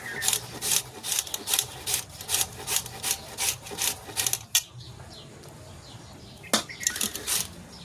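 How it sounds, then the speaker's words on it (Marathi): Raw papaya pieces are rubbed against a kitchen grater in a steady run of about a dozen rasping strokes. After a brief pause, a few more quick strokes follow, close and fairly loud, with no talk over them. "असं मस्त असा किस होतोय या पपईचा"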